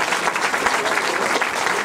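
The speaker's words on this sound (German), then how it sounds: "Ein Applaus für uns." Comedy show audience in Darmstadt applauding, a dense, steady wash of clapping throughout with no speech over it.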